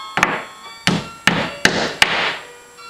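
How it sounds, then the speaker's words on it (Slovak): Five sharp hammer blows land at an uneven pace, each ringing briefly before fading, close and loud with no talking. "Drž kladivo dvomi ručkami"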